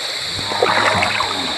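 Hands being washed in running stream water on a farm, with short splashing and gurgling bursts close by, loud and brief.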